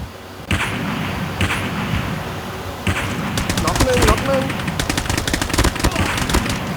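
Rapid automatic gunfire in the mobile shooter Call of Duty Mobile, bursts of crackling shots starting and stopping then growing denser, loud and close, with players talking over it.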